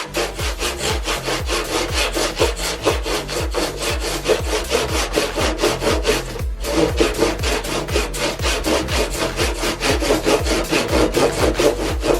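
A handsaw cuts through scrap wood for a DIY clothing rack in steady, rhythmic back-and-forth strokes, loud and close throughout with a brief pause midway.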